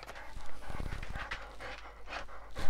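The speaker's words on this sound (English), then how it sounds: "I don't know why he's panting like that." A dog pants close by in quick, heavy breaths, with a brief scuffle of movement partway through.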